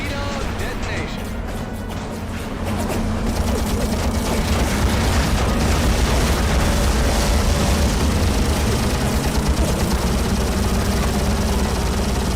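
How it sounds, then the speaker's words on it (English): Torpedo detonation in the WWII Pacific flight game Heroes of the Pacific: a sustained, loud rumbling blast with crashing debris and engine drone. It swells after a quieter opening and holds dense and heavy to the end. "Torpedo detonation."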